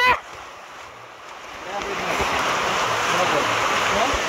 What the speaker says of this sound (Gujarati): કેટલું પાણી ઉપરથી અહીંયા પડી રહ્યું છે